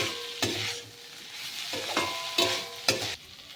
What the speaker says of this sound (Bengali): এখানে আমি একটা আলু নিয়ে নিয়েছি ভালো করে কফির সাথে কষিয়ে নিতে হবে